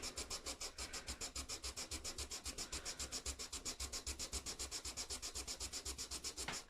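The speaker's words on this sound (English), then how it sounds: "I'm going to push it up against engineer's square to keep the saddle square to the sandpaper." A guitar saddle from a 1994 Gibson Gospel acoustic is rubbed back and forth on sandpaper, guided against an engineer's square. The strokes make a fast, even, close rasping rhythm, roughly six per second, with no talk over it.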